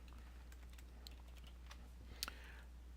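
Light, sparse keystrokes on a computer keyboard while code is typed for a first C# console app, quiet and close, a few isolated clicks with one brief louder tap near the end.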